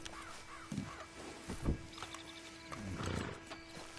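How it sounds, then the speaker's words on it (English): Horse sounds in Red Dead Redemption 2, a few soft snorts and hoof-like thumps scattered across a short stretch, with ambient bird caws and outdoor game atmosphere in the background. "Come back here and get this horse."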